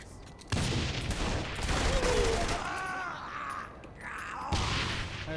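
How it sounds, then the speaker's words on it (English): Heavy gunfire aimed at tanks in the video game Saints Row: The Third comes in two dense, booming volleys, one at the start and one near the end, with voices talking between them. "Open fire on the tanks!"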